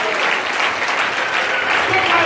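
A church congregation applauds to acclaim the Lord, a loud, dense and continuous wash of clapping hands that holds steady for the whole stretch, with voices mixed into it.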